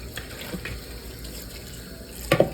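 Water runs faintly and steadily from a tap while items are rinsed out, ending in a brief louder splash.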